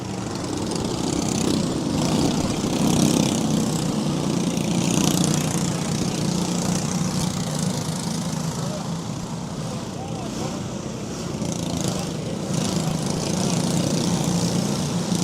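Rotax heavy racing kart engines idle together at a kart track, a loud continuous droning buzz with slight rises and falls, while a voice speaks over the engine noise.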